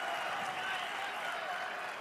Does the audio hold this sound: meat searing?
no